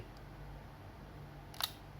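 Low room hum, then one quick mechanical shutter click from a Yashica Electro 35 GT film camera near the end, sharp and close.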